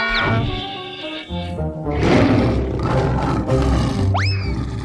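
Lions roar in their den during a dubbed animated scene, deep rumbling roars layered over music, loud and full, with a brief high whooshing sweep near the end.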